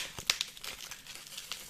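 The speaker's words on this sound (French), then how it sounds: "il a mis 3 tonnes de scotch, c'est impossible à ouvrir" A cardboard package bound in heavy layers of tape is torn at, giving quick irregular crinkles, rips and crackles close by, quiet overall.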